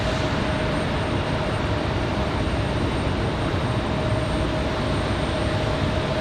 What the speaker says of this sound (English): Aeromexico from Cancun, that MAX 8 going to be our next arrival